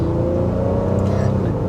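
A 2025 Honda Pilot Black Edition's V6 engine pulls hard under acceleration, a steady, loud, smooth drone rising slightly in pitch, with a voice talking over it.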